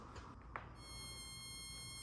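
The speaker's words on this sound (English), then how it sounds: "There's a fucking mosquito in here. Fucking buzzing by my ear." A mosquito whines close to the ear in a room, its faint, thin, continuous high-pitched buzz rising in and then holding steady over quiet background hiss.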